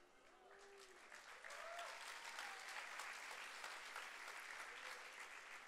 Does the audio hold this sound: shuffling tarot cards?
no